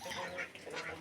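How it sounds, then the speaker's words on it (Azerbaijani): Domestic ducks, a cross with wild mallard, quacking at evening feeding: a brief cluster of nasal quacks, close and moderately faint. "Məncə bu ördək çöl ördəyinə qarışıqdır. Çünki yaşılbaş ördəkdir."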